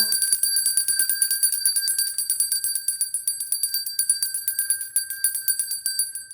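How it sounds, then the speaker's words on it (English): A small, bright bell rung rapidly and repeatedly, a close, shimmering tinkle that keeps going on its own. "Let me ring the bell."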